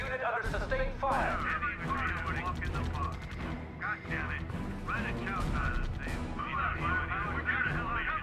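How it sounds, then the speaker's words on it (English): Sustained gunfire and artillery from the real-time strategy video game R.U.S.E. rumble continuously under game music, with explosions and crackling shots layered throughout while a voice reports in. "Unit under sustained fire"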